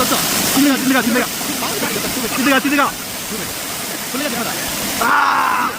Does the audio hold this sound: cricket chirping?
no